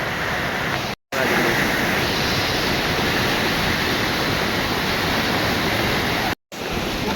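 Rising flood water rushes through a stream in Konkan during the monsoon rice-planting season, a loud, continuous broadband roar like a waterfall that fills the whole stretch, cut by two brief gaps.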